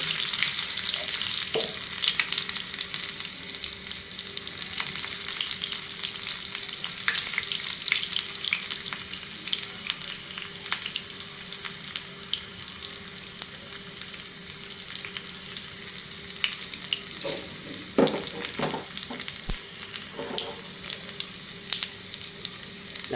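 Mustard seeds and onions fry in hot oil with a constant bright sizzle, punctuated by sharp pops and occasional clatters of stirring, close and steady throughout.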